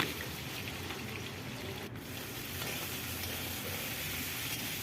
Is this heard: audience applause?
no